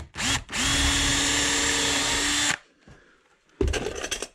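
A power drill pre-drills wood for a tiny house loft railing, running loud and close in one short burst and then a sustained whir of about two seconds, followed by a quiet gap and a brief rough burst of handling noise.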